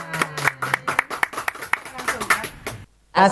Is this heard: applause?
yes